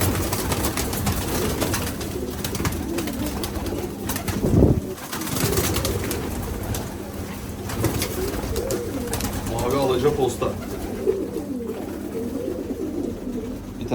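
Hünkari pigeons coo while being handled, with soft, repeated calls under ongoing nearby talk and handling noises.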